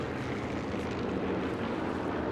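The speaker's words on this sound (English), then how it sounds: "Old planes." Old propeller planes flying overhead in the World War II shooter Sniper Elite 4, a broad steady engine roar filling the scene at moderate level with no voices.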